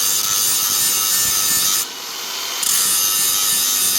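Cordless grinder grinding down part of an AR-15 rifle barrel, a loud continuous harsh abrasive whir that dips briefly midway and then resumes at full strength, with no talking.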